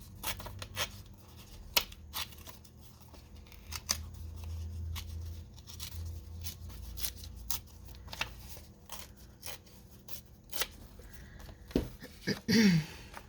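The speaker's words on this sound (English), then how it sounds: "Of course, we're going to tear the edges." Old book pages being torn along their edges by hand, heard as quiet, scattered dry rips and crackles in a sparse irregular rhythm, with a louder cluster of paper rustling near the end.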